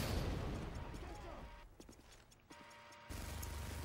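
Gunfire and explosive blasts from a grenade launcher in a video game, heard as a dense stretch of booms and bursts with game noise and voice chatter underneath, thinning briefly before the loud rumble returns.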